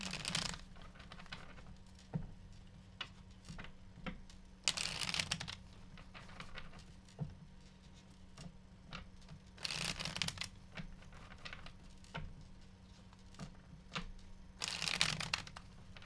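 Tarot cards are shuffled by hand in repeated bursts, with three louder riffle flurries among lighter taps and card clicks, close and alone over a faint steady hum.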